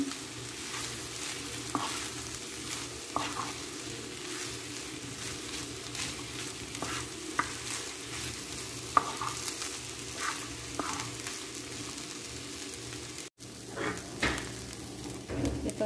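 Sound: stir-frying leftover rice for vegetable and shrimp fried rice

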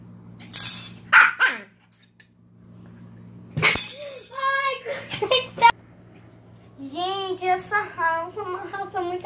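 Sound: Shih Tzu dog barking

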